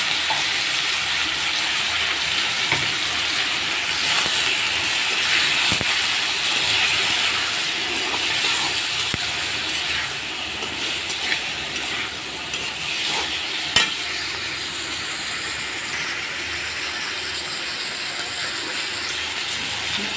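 Spices for a pabda and tengra fish curry with tomato and potato frying in a pan, a loud continuous sizzle and hiss with occasional faint stirring scrapes, steady throughout and with no talking.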